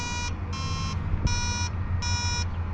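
A metal detector gives its target tone for aluminum or zinc, a high electronic beep repeating four times in an even on-off rhythm over a low background hum.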